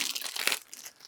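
Plastic wrapper crinkling around a pack of cards during a board game unboxing, a brief close rustle that peaks midway and then fades.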